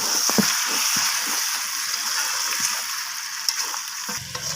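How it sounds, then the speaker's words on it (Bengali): Browned chicken with fresh coriander leaves fries in a pan and gets stirred, a steady close sizzle broken by soft scraping and shuffling of the spoon through the pieces. "তো ধনিয়া পাতাটা দিয়ে আমি চিকেনটাকে আরও একবার নাড়িয়ে চাড়িয়ে নেব।"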